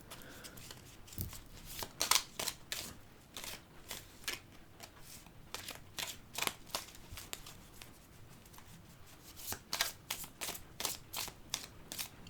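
Small oracle cards are shuffled by hand in quick, crisp riffling bursts that repeat in a steady rhythm, close and fairly quiet, with no voices.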